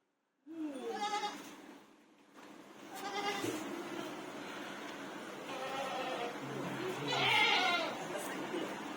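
Several goats bleat close by, repeated wavering cries over a murmur of voices and background farmyard noise.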